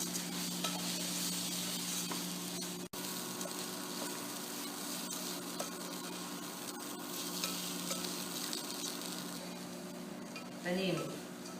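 Carnaroli rice toasts over high heat as it is stirred with sofrito for a vegetable risotto, giving a steady, close sizzle with stirring scrapes. A voice comes in briefly near the end.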